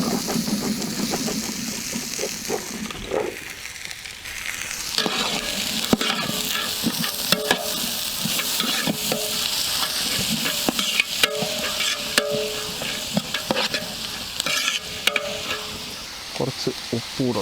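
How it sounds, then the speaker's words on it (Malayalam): Onions frying and being stirred in oil in a village kitchen, a steady sizzle with scraping stir strokes running throughout, a voice briefly speaking. "ഉള്ളി ഇട്ട് കൊടുക്കാം."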